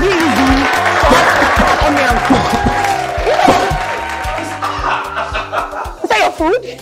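Audience at a cooking competition show claps in a loud, continuous burst of applause mixed with chatter and laughter, the clapping dense at first and thinning toward the end.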